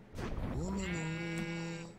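Sheep in the game Minecraft giving a single clear, wavering bleat lasting over a second, close and fairly quiet.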